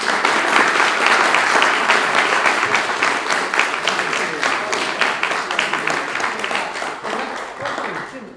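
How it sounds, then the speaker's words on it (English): An indoor audience gives a warm round of applause, many hands clapping loudly at first and then gradually thinning and softening toward the end. "we got to give him a round of applause"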